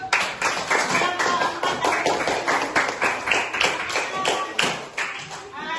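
A classroom of fourth-grade primary school pupils claps together for a student group, a steady rhythmic patter of hand claps with some louder thumps, close and continuous throughout.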